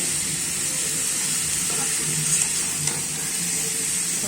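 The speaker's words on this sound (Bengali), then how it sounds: "আমি ভালো করে কষিয়ে নিচ্ছি" Hilsa fish curry sautés in a hot pan with a steady, close sizzle and frying crackle, with a few faint stirring clinks and no voices.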